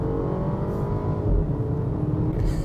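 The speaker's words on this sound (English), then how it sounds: "exhaust popping" A 2016 BMW X1 xDrive 28i engine revs and accelerates close by, a steady low rumble with a brief surge partway through and exhaust popping; no talking.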